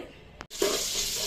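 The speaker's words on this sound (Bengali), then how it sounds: "আলু পটলটাকে আগে ভেজে নিচ্ছি, লাল লাল করে আলু আর পটলটাকে ভেজে নেব" Potato and pointed gourd frying in a pan, a steady broad sizzle that swells after a brief stir and a short pause, close and fairly loud with no talking.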